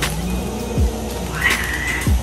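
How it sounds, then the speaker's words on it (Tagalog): Cats fighting nearby, with drawn-out yowling caterwauls and sharp rising cries over about two seconds, loud and close, no talking. "Naririnig niyo ba mga pusa ako nag-aaway?"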